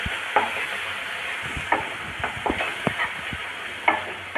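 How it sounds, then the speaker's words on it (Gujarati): Crushed onion sautéing with asafoetida in a pan, a steady close sizzle and hiss broken by occasional scraping stirs and small pops, with no talking. "હવે આ ડુંગળીને એકદમ સરસ સાંતળવાની છે।"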